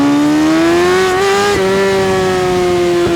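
A 2017 Kawasaki Ninja ZX6R 636 motorcycle engine revs loud and close, a strong sustained howl that climbs in pitch, with brief blips as the throttle shifts and no talk.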